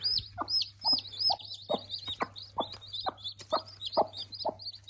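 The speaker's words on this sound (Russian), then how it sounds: "Вот они, 8 цыплят" A broody hen clucks steadily while eight or nine chicks peep in high, rapid chirps throughout, close by, with a faint steady hum underneath.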